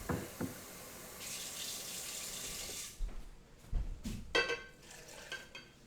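Three-quarters of a cup of water poured into a blender, a close, hissing stream for a couple of seconds followed by light clinks and splashes of kitchen handling.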